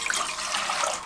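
Water poured from a glass into a cooking pan while making a fat-cutter drink: a close, fairly loud splashing gush that lasts about a second, with no talk.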